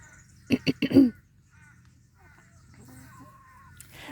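A few short clucking calls from rescued chickens scratching close by, then quiet rustling with faint scattered sounds.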